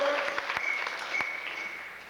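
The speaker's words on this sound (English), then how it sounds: "Don't applaud the truth, just believe it." An audience at a 1986 San Francisco Baha'i peace conference youth program claps briefly, a faint, fairly distant patter of applause that fades toward the end.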